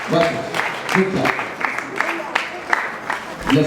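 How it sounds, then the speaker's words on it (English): An audience at an awards ceremony applauds in a sustained patter of hands, with someone speaking over the clapping at close range. "Give him a big hand."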